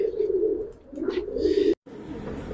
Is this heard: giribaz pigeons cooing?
yes